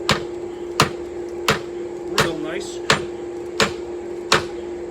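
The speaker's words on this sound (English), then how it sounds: "So, now we're good to go ahead and start upsetting this baby." A big hammer upsets hot steel while a flatter is being hand-forged: seven sharp, ringing blows land at a steady rhythm over a constant hum. Someone briefly speaks between strikes.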